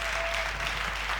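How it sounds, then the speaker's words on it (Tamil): A congregation clapping at a Sunday church service, a dense, continuous patter of hands over a steady low hum, brief and without talk. "கைத்தட்டு, நல்ல கைத்தட்டு, நல்ல கைத்தட்டு"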